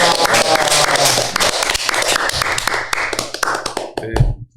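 An audience applauds a professor at the close of a talk show lecture, a dense wash of clapping that stays loud for about four seconds before it fades out.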